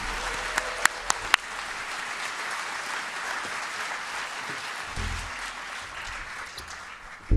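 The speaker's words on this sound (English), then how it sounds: "please join me in another round of applause for Jesse J.P. Johnson, alias SpongeBob" An audience at an EdTech Week event on Broadway claps in sustained applause, a dense even patter from a crowd with a few sharp claps near the start, steady until it cuts off at the end.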